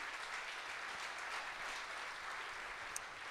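A distant, quiet wash of applause rises from a conference audience welcoming a Boston Consulting Group senior advisor onto the stage, steady and soft throughout.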